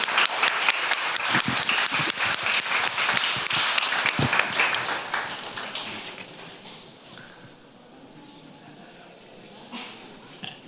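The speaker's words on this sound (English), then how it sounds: "A big round of applause." Audience applause at a talk, loud and dense clapping at first that fades to a light scatter and then near quiet.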